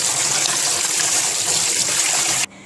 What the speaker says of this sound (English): Go ahead and rinse the salt off of the shrimps.